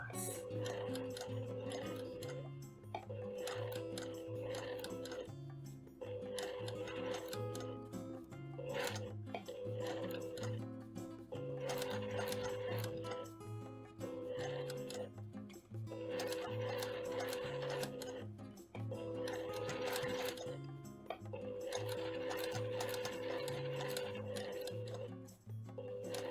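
A sewing machine stitches patchwork appliqué in rapid, steady bursts of mechanical ticking and whirring, pausing between seams. It runs close and clear, with light handling clinks in the gaps.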